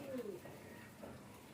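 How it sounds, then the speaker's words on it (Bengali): Pigeons coo in a loft, giving a brief, soft, low coo against quiet background murmur, with a voice faintly present. "শখের কবুতর"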